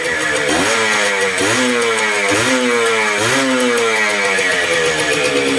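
A Honda NSR150RR motorcycle engine under test revs loudly and repeatedly, climbing to about 8000 rpm in several rising surges before easing back, close and continuous with no talking.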